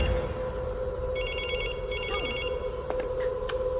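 An unanswered phone rings in two bright trilling bursts over a low steady drone in a dramatic film scene, followed by a few faint clicks and knocks.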